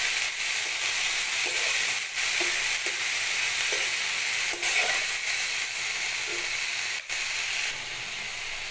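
Helencha greens fry in a pan with garlic and onion, a steady hissing sizzle with occasional clinks and stirring sounds close by, with no talking.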